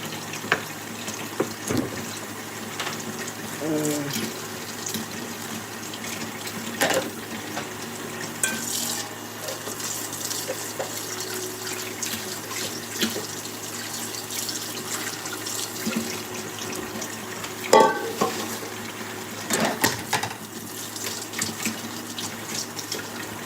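A kitchen tap runs for a long stretch while dishes are washed by hand, a constant rushing hiss punctuated by occasional clinks, bumps and splashes of handled dishware, nearby and without speech.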